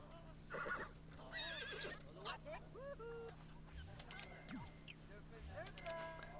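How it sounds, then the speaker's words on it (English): A horse in The Sims 4 lets out a neigh and whinnying calls amid game sounds, with quacking and hoof clops mixed in near a chicken feeding area. "And then you can mount the horse after."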